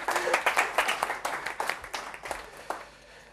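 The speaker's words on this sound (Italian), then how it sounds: "Ragazzi, signori, un applauso." Audience applause at a live Italian talk event, a burst of clapping that is loud at first and gradually thins out over a few seconds.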